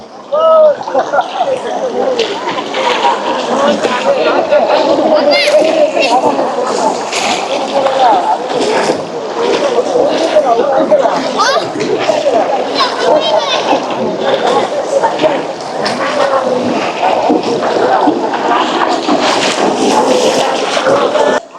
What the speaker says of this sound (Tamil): முழங்காலுக்கு மேலே இருக்குது தண்ணி